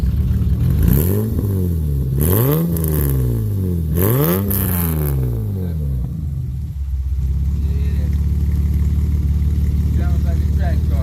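A custom 1989 BMW 325i E30 engine revving up close: three sharp rising blips to high revs, each falling back, then a steady throaty idle, with voices talking around it.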